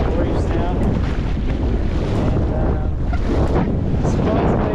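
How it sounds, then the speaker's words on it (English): Strong wind roars steadily across the microphone aboard a double-reefed sailboat off Whangarei, New Zealand, a constant low rumble and buffeting throughout, with faint rushing water beneath. "It's still windy."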